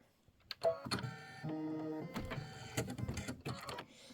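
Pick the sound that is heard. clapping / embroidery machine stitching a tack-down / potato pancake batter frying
embroidery machine stitching a tack-down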